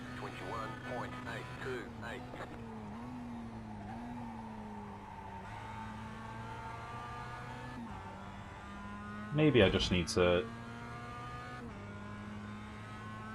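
A Mazda MX-5 race car in a racing game at Zandvoort, its engine droning steadily with pitch shifting through gear changes, plus a short burst of tyre or kerb noise near the end, under someone talking throughout.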